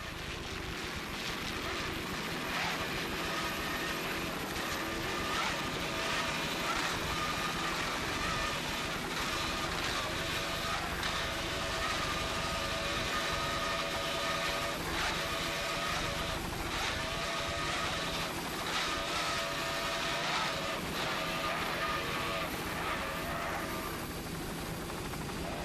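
An offshore race boat powered by two 200 hp Mercury outboards running in a Key West championship race: a continuous, distant engine roar with wind and water rush, steady throughout.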